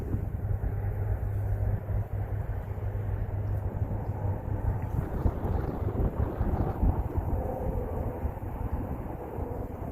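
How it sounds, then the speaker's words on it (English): Cold winter wind blows across open water in a continuous low rumbling buffet against the microphone, steady and fairly loud with no clear voices. "That wind will kind of cut right through you"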